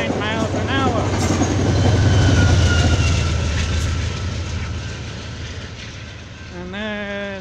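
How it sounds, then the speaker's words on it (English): A southbound Talgo train speeds past a level crossing at about 79 mph, making a loud, rushing roar with rail clatter that fades as it goes by, with a person talking over it. "And there's a southbound train that had the green light."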